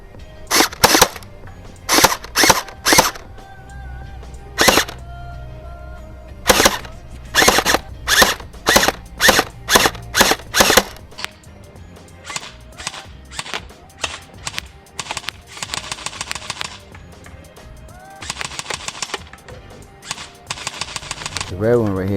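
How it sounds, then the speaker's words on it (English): An AR-15 style gel blaster fires at a target in sharp, snappy shots, first single and paired pops with gaps, then faster rapid bursts of clicky repeated fire toward the end. "All right, let's do some shooting."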